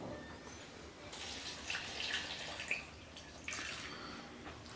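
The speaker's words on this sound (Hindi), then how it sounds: "अब इसमें थोड़ा सा पानी जाएगा।" Water is poured into a jug holding mango and peach juice ingredients, a faint, steady splashing trickle in a quiet kitchen with a few brief louder gushes.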